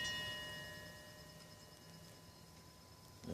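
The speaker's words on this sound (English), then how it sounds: "Here's another mobile made from a level, keyhole saw and hammers," Wind chime built from hand tools, including a level, keyhole saw, hammers and saw blades, with a pair of pliers hanging in the middle as the striker. It gives off faint sustained metallic ringing tones that slowly fade, with no talking.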